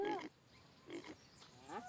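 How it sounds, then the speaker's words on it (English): Pigs on a farm in a video game, three short grunting calls spaced apart at a moderate, near distance with quiet gaps between them. "Because I noticed the pigs are breeding."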